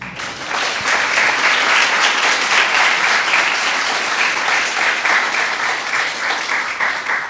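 Sustained, dense applause from a lecture audience welcoming the artist Teresita Fernández, rising quickly and holding steady and loud throughout with no talk over it.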